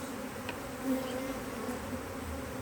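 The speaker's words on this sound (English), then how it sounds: "they're a bit angry, they're not normally angry bees" Angry bees in a queenless hive with laying workers hum as a steady, fairly faint drone, with no one speaking over it.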